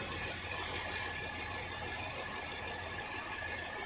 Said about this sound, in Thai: เดี๋ยวลองฟังเสียงเครื่องกันนะครับ